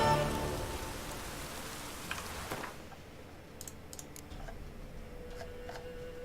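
Steady rain hiss in the game The Witcher 3 fills the scene, loud at first then settling, with scattered light ticks and taps over it; no talking.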